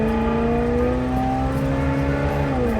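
A vintage RV engine, newly fitted with fuel injection, roars loud and close at full throttle, its pitch holding high and dipping slightly at the end.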